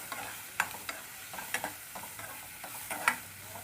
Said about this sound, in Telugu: సో ఇప్పుడు ఇది వేగుతున్నాయి కదా